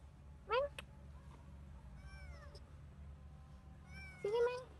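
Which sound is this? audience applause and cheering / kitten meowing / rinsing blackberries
kitten meowing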